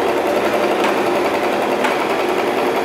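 A Singer Tradition sewing machine runs continuously, stitching close up with a steady fast whirring hum and no pauses.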